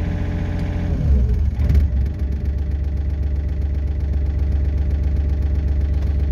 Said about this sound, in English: when I just press this button, the RPM goes up to the preset that I previously did